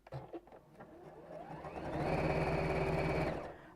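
A sewing machine stitches seams in fabric right sides together, starting with a few soft clicks then running up into a steady close whirring burr before slowing at the end.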